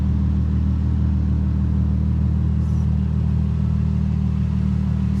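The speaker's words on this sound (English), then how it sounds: "POV of how my car sounds with this Muffler and Resonator delete." An Infiniti G35 six-speed with the muffler and resonator deleted holds a steady, loud, deep exhaust drone, rumbling evenly close by with no clear revving.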